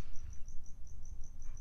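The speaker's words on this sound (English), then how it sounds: "there's a cricket coming from the sky" A cricket chirps in a steady, evenly spaced pulsing trill, clear and fairly near, over a low rumbling outdoor background with no speech.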